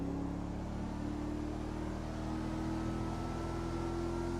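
A 2013 Mercedes-Benz GL63 AMG accelerates at full throttle, its engine a steady droning hum heard from inside the cabin, fairly quiet and continuous, with no talking.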